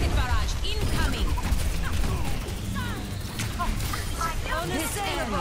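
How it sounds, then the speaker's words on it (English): Pharah's rocket barrage ultimate in Overwatch 2 unleashes a dense, continuous volley of rapid rocket blasts and explosions, loud and chaotic, mixed with game voice lines and chatter. "Rocket barrage incoming."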